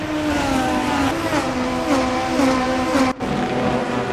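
Race cars at Okayama circuit in a Formula-style cup race, a pack of about a dozen running close together, engines droning and revving continuously at high volume, with a brief dip near the end as one passes.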